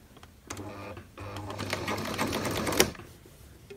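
Sewing machine stitching a cosplay bodice lining, a steady mechanical whir running in two stretches with a brief pause, close and moderately loud, with a sharp tick near the end.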